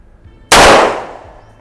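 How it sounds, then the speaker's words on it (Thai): A single loud, close gunshot from an S&W 4506 pistol fired in single action at a target. It is a sharp crack that rings out briefly into quiet. "แต่นี้ผมจะยิงนะครับ ทดสอบกลุ่มกระสุนก็จะใช้ซิงเกิลนะครับล้วน ยิงที่เป้าขวา จำนวน5นัดนะครับ"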